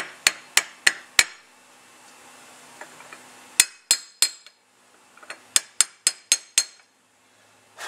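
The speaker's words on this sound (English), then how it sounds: "so you might just tap them just to seat them in." A hammer taps rivets on a Buick air-conditioning part to seat them, giving sharp metallic clinks in quick bursts of three or four strikes separated by short pauses, close and clear with no talking.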